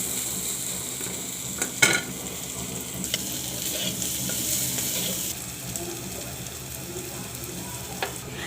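Potatoes fry with a steady sizzle in a pan while being stirred now and then, with a few louder scrapes and clinks of the utensil against the pan standing out over the continuous frying noise.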